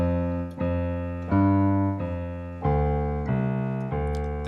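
Piano left hand playing a bass line in steady quarter notes, each low note struck clearly and sustained into the next, heard alone at moderate loudness.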